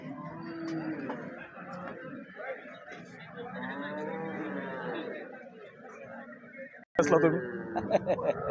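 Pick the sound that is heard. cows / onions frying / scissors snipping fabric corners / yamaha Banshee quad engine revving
cows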